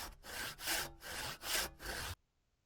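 In the video game Farmers World, a saw cuts through wood in five rhythmic back-and-forth rasping strokes, close and fairly loud, then cuts off to silence.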